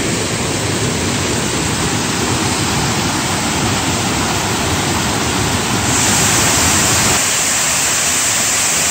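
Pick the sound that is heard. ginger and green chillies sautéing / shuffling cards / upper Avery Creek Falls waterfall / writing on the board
upper Avery Creek Falls waterfall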